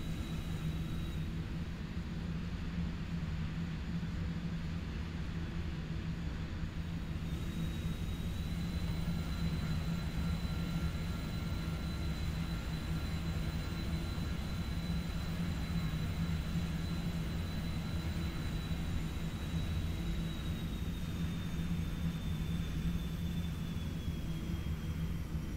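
BAe 146 jet engines in a flight simulator, a steady, unbroken roar with a faint high whine running through it, holding constant throughout.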